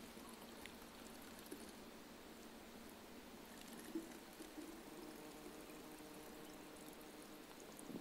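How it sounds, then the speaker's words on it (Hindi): Water steadily poured into a plastic bottle being filled for a homemade pressure rocket, a continuous quiet trickling and splashing that runs evenly throughout. "अब मैं इस बोतल में ज़्यादा से ज़्यादा पानी भरूंगा"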